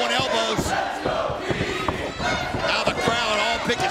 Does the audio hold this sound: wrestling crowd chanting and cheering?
yes